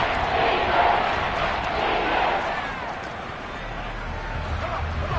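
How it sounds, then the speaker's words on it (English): A simulated stadium crowd in the football video game Madden 23 gives off a broad, rushing roar that swells early, dips briefly, then holds steady ahead of a big third down. "The crowd getting into it as we come up on a big third down."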